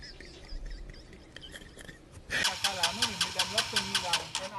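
A motorcycle engine at a roadside mechanic's shop cranks and catches, then settles into a loud, evenly pulsing idle close by, with voices and background noise before it starts.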